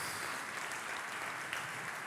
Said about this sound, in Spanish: ¿Cuánto le aplauden a Dios?